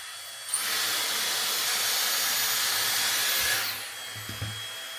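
A Dyson Airstrait blows a steady, loud rush of air through natural African American hair as a tension brush works a section, switching on abruptly and cutting off after about three seconds, followed by faint handling thumps.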